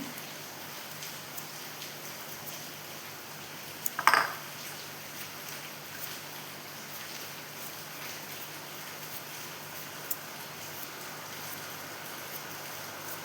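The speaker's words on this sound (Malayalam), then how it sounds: "മഴേൻ്റെ ഒച്ച കാരണം ഒന്നും പറയാൻ പറ്റില്ലല്ലോ." Steady hiss of rain falling, even and continuous throughout, with a brief clink of something hard partway through.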